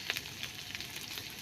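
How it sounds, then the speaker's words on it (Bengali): Taro stolons (kochur loti) frying in a pan with a steady broadband sizzle, while stirring adds occasional soft scrapes. The sound is fairly quiet and continuous, with no voices. "ভাজা হয়ে গেলে কচুরলতিগুলি দিয়ে নেড়ে চেড়ে হালকা ভাজা হয়ে"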